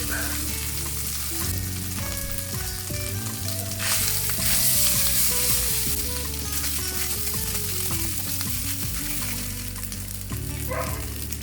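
Leftover crushed rice frying in cooking oil, butter and chopped garlic, with a steady, loud sizzle lasting throughout and occasional stirring scrapes. Music plays underneath.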